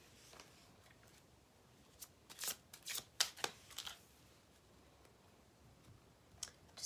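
A deck of tarot cards is shuffled in a few quick riffling bursts with light clicking, close and fairly quiet, separated by near silence.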